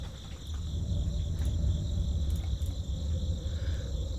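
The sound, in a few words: crickets chirping in a video game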